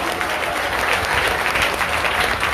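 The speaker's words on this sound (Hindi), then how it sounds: "उनके लिए जोरदार ताली बजाएं।" A crowd applauds loudly at a seven-day Srimad Bhagwat religious gathering, dense continuous clapping from many hands that holds steady throughout.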